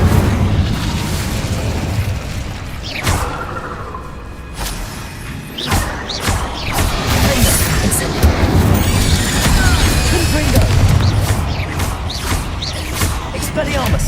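Spell blasts from Confringo and Incendio in Hogwarts Legacy, a string of loud booming bursts and crackling fiery impacts spread through a chaotic duel, with a character's voice shouting spell names over them.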